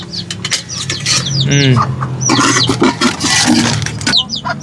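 Chickens cluck and chirp close by in a busy, overlapping chorus, with a brief flutter of wings and scattered bird calls.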